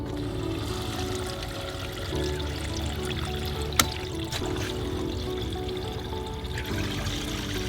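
Water rushes and trickles steadily through a 3M AP902 whole-house filtration system at low volume as a ball valve is opened, with one sharp click partway through.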